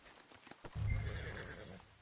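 A horse in Red Dead Redemption 2 gives a loud, close whinny that rises after a brief quiet stretch, with soft hoof clip-clops scattered before and beneath it.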